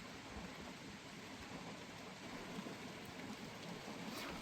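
Steady rain falls after a thunderstorm, a dense even hiss of drops on surfaces, soft and continuous throughout.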